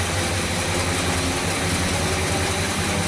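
A 1970 Buick Wildcat V8 idles steadily on a new Quadrajet carburetor, giving a loud, close, continuous low rumble that holds an even throb throughout.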